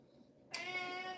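A cat gives one loud, drawn-out meow that starts abruptly after a short quiet stretch. The call is close to the microphone and rings clearly, with no voices over it.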